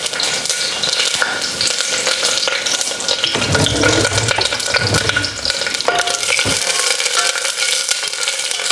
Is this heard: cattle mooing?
no